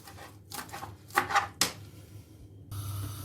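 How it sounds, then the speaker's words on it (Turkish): A knife chops through spinach on a board, a few quick crisp cuts and thuds, then a soft rustle. "Şöyle ıspanaklarımı güzelce doğradıktan sonra"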